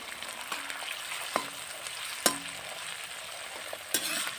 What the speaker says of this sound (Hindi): टमाटर को भी एक मिनट के लिए भून लेंगे।